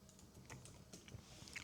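Fast typing on a MacBook Neo laptop keyboard: a quick, uneven run of soft, close key clicks with a few sharper taps near the end.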